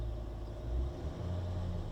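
A low engine drone rises and falls as the revs climb briefly and settle, steady and close, with no voices.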